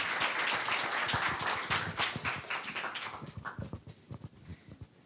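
A conference audience claps for a professor walking to the stage, dense steady applause that fills the room, then thins into scattered separate claps and fades out.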